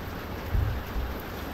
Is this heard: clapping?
no